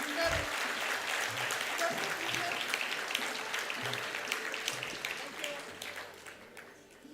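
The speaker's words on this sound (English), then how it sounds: "A huge round of applause for Preeti and Ayush." Steady applause from the audience at a university convocation ceremony, with dense clapping that slowly tapers in loudness toward the end.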